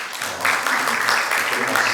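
Applause from the audience at a seminar on death studies, a short dense patter of clapping filling two seconds, with a voice speaking over it.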